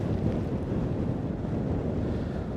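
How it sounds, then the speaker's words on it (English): Strong wind gusts outdoors in Brooklyn, New York, blowing from the northwest at around 18 to 20 miles an hour, roaring as a dense low rumble of buffeting across the microphone, constant and loud, with no speech. "with the wind coming out of the northwest at like 18, 20 miles an hour. It's a sustained wind, so it's gusting"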